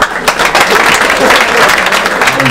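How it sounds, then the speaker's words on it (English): Audience applause at a high school football signing day, a dense, steady wash of clapping that fills the whole stretch at close range. "we'll give a round of applause for these guys"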